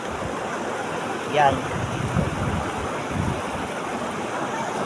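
A river stream flows with a continuous rushing murmur and some wind buffeting, while a voice speaks a single short word near the start.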